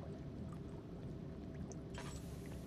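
Water in Amnesia: The Dark Descent pours and laps steadily as an unseen presence moves through it, a continuous liquid wash with a brighter splash partway through.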